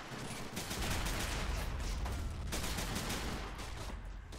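Sustained machine gun fire from a World War II battle at Shuri Castle in Men of War: The Pacific mod, a dense continuous rattle of shots layered with battlefield noise throughout.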